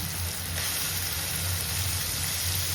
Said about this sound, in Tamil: கடவா மீனை வந்து கிரேவியில் மிக்ஸ் பண்ணுறோம்